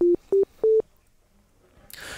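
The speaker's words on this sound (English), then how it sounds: "Then we just got the first operator with a sine wave." Three short, pure sine-wave notes from a single operator on a Yamaha DX7 synthesizer sound in quick succession, each one clean and steady with slight pitch steps, followed by quiet and then faint noise.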